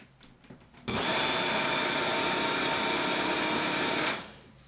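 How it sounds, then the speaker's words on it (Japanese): A blender switches on and whirs loudly and steadily for about three seconds before spinning down, blending soaked soybeans for homemade tofu. "早速ミキサーの方にかけていきます。"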